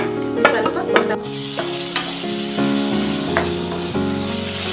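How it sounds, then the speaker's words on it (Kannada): Onion and tomato hit hot oil with mustard seeds, cumin and sesame in a pan, giving a steady, close sizzle with sharper crackles and stirring scrapes throughout, no voices. "ಸಣ್ಣದಾಗಿ ಕಟ್ ಮಾಡ್ಕೊಂಡು ಒಂದು ಈರುಳ್ಳಿನ ಹಾಕೋತೀನಿ ಇಟ್ಕೊಂಡಿರೋಂಥ ಒಂದು ಟೊಮೆಟೊ ಹಾಕೋತೀನಿ"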